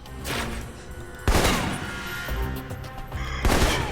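Assault rifle fire in Alpha Protocol, with loud, close bursts of rapid shots and sharp impacts repeating in clusters, with no talking.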